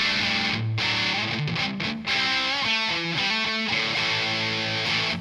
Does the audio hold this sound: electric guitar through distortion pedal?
yes